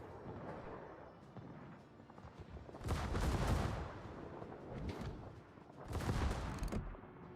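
Heavy warship gun salvos in a naval combat game, two loud booming bursts with rolling rumble about three seconds apart over a constant low background din.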